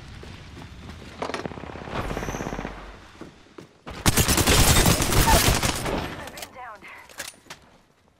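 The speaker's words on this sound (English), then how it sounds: "Getting shot at. Firing." Gunfire in the Apex Legends video game, with scattered shots followed by a loud, dense burst of automatic fire, close, with game voice callouts around it.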